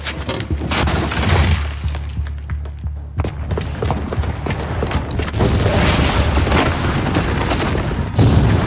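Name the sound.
bomb explosion in the video game Horizon Zero Dawn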